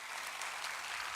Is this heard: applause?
yes